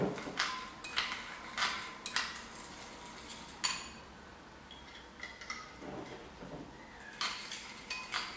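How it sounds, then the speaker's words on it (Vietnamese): A utensil clinks and scrapes against a bowl while stirring a fish sauce mixture, with quiet repeated taps and rattles close by in an otherwise still room. "Mình quậy đều lên cho tan."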